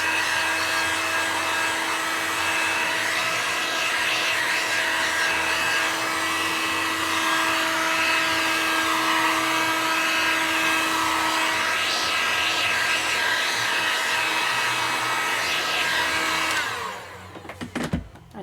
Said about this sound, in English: I'm using my small embossing heat tool this time